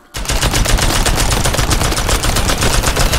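A loud, dense burst of rapid machine-gun fire in the cartoon artillery game Worms W.M.D., each shot pulsing in quick even succession without pause.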